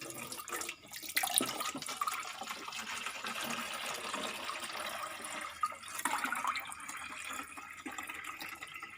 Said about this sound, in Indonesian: kemudian nanti kita tambahkan air.